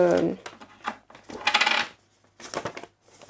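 Coins clink and drop into a paper money envelope in a few separate bursts of jingling metal, close by and fairly loud, with pauses between handfuls.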